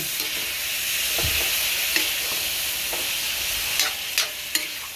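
Pork stirred in a hot pan as its fat renders, with a loud, close, even sizzle and a few sharp scrapes and taps from the utensil.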